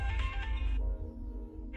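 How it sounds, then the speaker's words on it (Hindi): A phone ringtone plays nearby, a bright electronic tune that cuts off briefly before starting again. "फोन देखो।"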